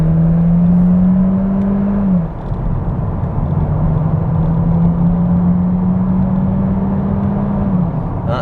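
A 2019 Seat Leon Estate cruising on a motorway in sport mode, its engine droning steadily under loud road and wind rumble, with a brief dip as revs shift before settling into a sustained hum.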